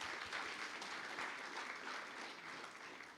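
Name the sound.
audience applause for children's song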